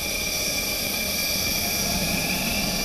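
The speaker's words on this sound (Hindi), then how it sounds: "तीनों जेट अपने हैंगरों से बाहर निकलते हैं और गरजते हुए अपने अभ्यास पर निकल जाते हैं।" Rafale fighter jets roar out of their hangars, a loud, continuous engine rumble that stays steady and dense throughout with no pauses.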